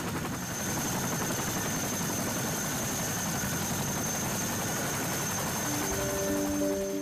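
Chinook helicopter fitted with skis for snow and ice, a steady loud rotor and engine drone held throughout, with a faint rising tone near the end.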